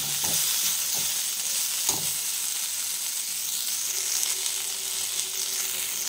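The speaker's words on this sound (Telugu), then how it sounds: "పుదీనా వేగిపోయిందండి, తీసేస్తున్నాను" Mint leaves fry in a pan for a coconut chutney, with a continuous crackling sizzle and a few scraping stirs near the start, close up and steady.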